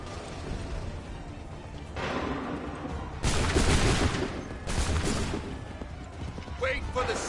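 Musket volleys in Assassin's Creed 3 battle scenes, dense crackling bursts of gunfire that swell and fade in waves under shouted commands and background battle noise.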